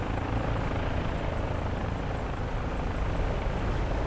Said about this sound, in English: There's an Apache taking off over there